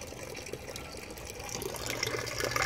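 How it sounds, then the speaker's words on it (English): Water pushed by a small 40 watt air pump through a pipe in a pond aquaponics setup, a continuous gurgling flow that swells louder toward the end, with no talk. "40 watt air pump that's pushing that water all the way down this pipe to over here and down to these bins."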